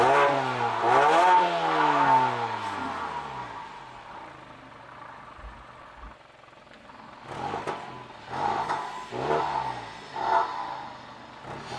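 A Mazda 6 2.5-litre petrol engine revs up and down in strong surges, its exhaust roaring with rising and falling pitch, a quieter idle gap in the middle before more revving bursts.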